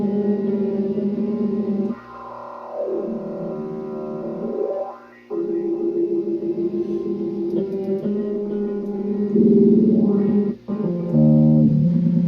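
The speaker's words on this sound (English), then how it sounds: "So then I'm going to add reverb." A sample played from a Roland SP-404MK2 with heavy reverb maxed out, a sustained harmonic tone with sweeping pitch bends and long washy tails, fairly loud and continuous with brief dropouts.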